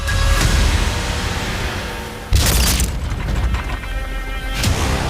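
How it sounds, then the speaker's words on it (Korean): A bomb blast at a house in a film, with a loud booming burst about midway, heavy rumbling debris and low roar around it, and another sharp hit near the end; no talking. "동교동 자택에 정체불명의 폭발물이 터졌습니다"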